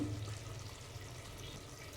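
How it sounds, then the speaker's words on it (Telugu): Water being poured into a pressure cooker of basmati rice for chicken biryani, a steady continuous splashing and trickling pour heard close and alone for the whole stretch. "ఇప్పుడు రెండు గిలాసులు బాగా నీళ్ళు పోసుకున్నాం కదండి"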